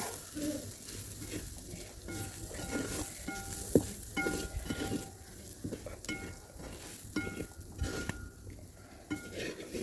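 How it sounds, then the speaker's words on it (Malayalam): Spice powders frying in a pan while beef pickle is cooked, a soft continuous sizzle with stirring scrapes and occasional light clinks of a utensil against the pan, close and fairly quiet. "അതിൻ്റെ പച്ചമണം മാറുന്ന വരെ നമുക്കൊന്ന് വറുത്തെടുക്കാം."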